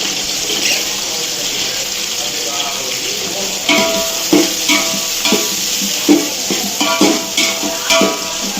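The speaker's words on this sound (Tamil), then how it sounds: "இந்த வெங்காயம்லாம் நல்லா பொரியணும் எண்ணெயில்." Eight large onions fry in hot oil in a pot for a two-kilo batch of home-style chicken biryani. A steady, loud sizzle runs throughout, and sharper clinks and scrapes of stirring come in during the second half.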